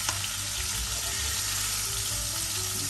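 Food fries in a pan with a loud, continuous sizzle and crackle, steady throughout and with no voices.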